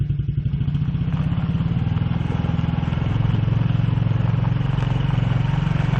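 A Suzuki King Quad 300 utility ATV engine runs in super low first gear, a steady close chugging thrum with rapid regular firing pulses that grows slightly louder midway.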